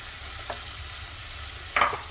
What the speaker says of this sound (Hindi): प्याज को हाई फ्लेम पर भून लेंगे